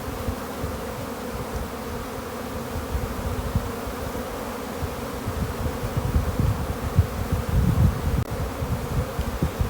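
Dense, steady buzzing of many honeybees fills the air around an open beehive during a spring inspection, a continuous close hum with no voices.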